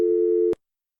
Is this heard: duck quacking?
no